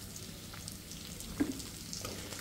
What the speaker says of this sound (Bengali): পিস কাইটা নিচ্ছি, পিসও ভাজা নিব এই তেলের মধ্যে।